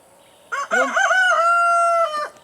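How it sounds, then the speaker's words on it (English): A rooster crows close by, one loud, drawn-out cock-a-doodle-doo with a rising start and a long sustained note that tails off. "these roosters are going to be so fun. I don't think they've stopped since I brought the new ones in."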